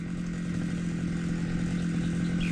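A motorized grass cutter runs steadily and close, its engine holding a loud, continuous buzzing drone the whole time with no voices over it.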